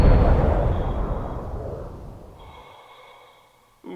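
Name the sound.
weapon shot fired at airlock armor in video game Breathedge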